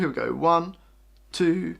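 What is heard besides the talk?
None of the usual background noises is heard.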